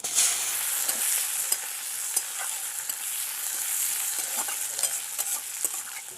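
Onion, dried red chilli and panch phoron frying in hot oil in a pan just used for frying small khalse fish, in a rural Bengali kitchen: a steady, close sizzle with repeated sharp stirring scrapes and clicks throughout, no voices.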